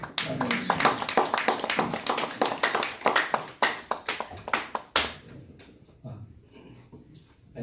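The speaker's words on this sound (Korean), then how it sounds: "우리 박수로 맞이해주십시오" An audience claps to welcome Dr. Yoon Ji-hoon before his lecture, a crisp round of separate hand claps from a modest crowd that ends abruptly, leaving a quiet room with faint murmurs.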